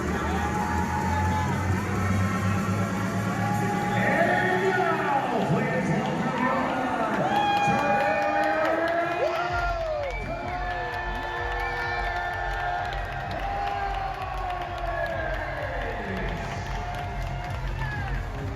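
AHL playoff hockey arena crowd, a continuous loud cheering roar with whoops and shouts layered under arena music and an announcer's echoing voice.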